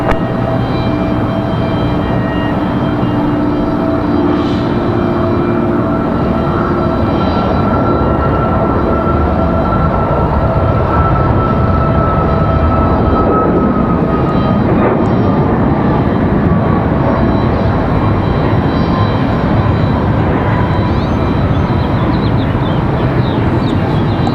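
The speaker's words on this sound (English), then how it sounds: "So that's United off to Newark, New Jersey." A United airliner departing Raleigh Durham International Airport for Newark: a loud, sustained jet engine roar with a slowly shifting whine, heard continuously at close range with no talk.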